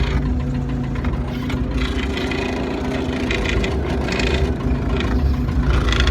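A tractor engine runs loud and close with a rough, clunking, uneven knock over a steady low rumble on a farm, continuous throughout.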